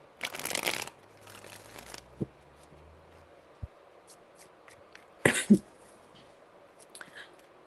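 Tarot cards shuffled in three distinct bursts, a long riffle at the start, a shorter flutter, then a quick double riffle later, close and crisp against a quiet room with small handling taps between.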